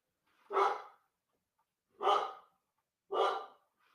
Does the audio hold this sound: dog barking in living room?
yes